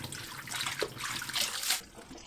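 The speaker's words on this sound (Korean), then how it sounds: "물에 3-4번 흔들어가면서 씻으면 시금치 사이사이 끼어있는 흙까지 쉽고 깨끗하게 씻어낼 수 있습니다" Blanched spinach rinsed in cold water, shaken three or four times to loosen soil: close splashing and trickling water with soft sloshing surges, no voices.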